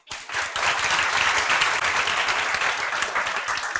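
An audience in a classroom-style gathering breaks into clapping, rising quickly from silence into a loud, dense, sustained round of applause.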